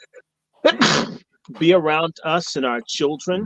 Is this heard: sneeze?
yes